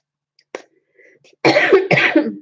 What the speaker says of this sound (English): Bloody cough.